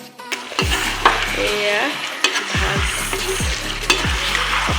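Pieces of mutton sizzle in a hot pan for a village-style Assamese mutton curry while a spatula scrapes and stirs them in repeated strokes. A brief spoken word comes in near the start.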